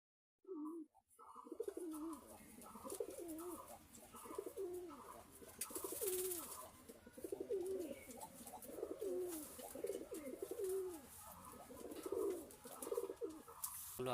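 Pigeons coo inside a cage, a series of soft, repeated throaty calls rising and falling in a steady rhythm, close by and fairly quiet.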